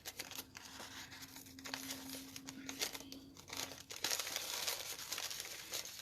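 Plastic lollipop wrapper crinkling and tearing slightly as the candy is pushed through a tiny hole for a Halloween treat holder, a close, continuous rustle with brief louder crackles and no talking.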